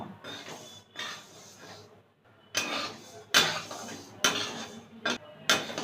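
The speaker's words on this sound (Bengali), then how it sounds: "মুগ ডাল নিয়েছি মিডিয়াম আছে ডালটাকে ভেজে নেব" About 200 grams of mung dal is dry-roasted in a pan over medium heat and stirred with a utensil. It makes bursts of close scraping and rattling clatter, with short pauses between strokes.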